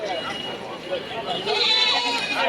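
Sheep bleat amid a busy goat market crowd, the animal calls rising over constant nearby chatter.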